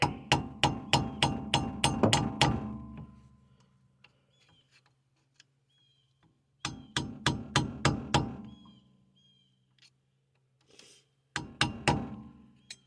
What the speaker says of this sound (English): Use a good flat blade screwdriver, scraper, or whatever, and a hammer.